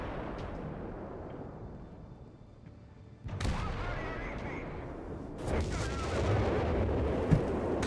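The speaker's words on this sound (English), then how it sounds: "Bit of artillery from up north. towards the north here from the howitzer there." Howitzer artillery fire in a Company of Heroes 3 battle, with a distant rumble giving way to heavy booming blasts and a sharp later hit, while a voice talks over the action.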